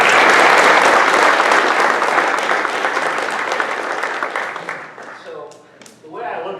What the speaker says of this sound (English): I'd like to give them a round of applause because they do so much